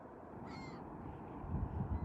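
Birds call at a beach at sunrise on Pawleys Island, a short crow-like caw rising faintly above steady surf noise, followed by low rumbling thumps near the end.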